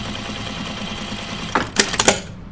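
A sewing machine top stitching a seam on a small fabric pincushion runs in a few quick, rattling bursts near the end, after a stretch of quieter background hum.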